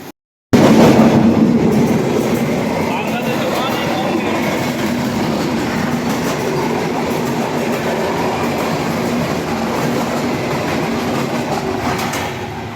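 Sundarban Express passenger train from Dhaka toward Jessore rolling along the rails, a steady loud rumble and rattle of carriages heard from inside, continuous throughout with no pause.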